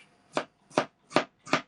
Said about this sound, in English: Lots of chopping.